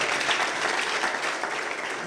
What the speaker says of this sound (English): let's give a big hand clap